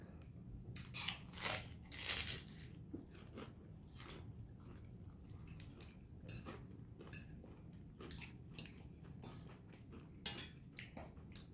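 Repeated crisp crunches of teeth biting and chewing into a fried crab rangoon with a cream cheese filling, close and distinct, with faint clinks of cutlery or dishes between bites.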